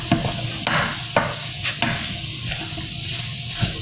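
Food fries in a pan while a spoon stirs and presses the pieces, giving soft sizzling under repeated sharp scrapes and knocks of the spoon on the pan.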